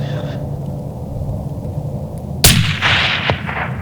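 A single loud 28 Nosler rifle shot cracks out at a markhor during a hunt, a sharp blast followed by a rolling echo, after a stretch of quiet outdoor ambience.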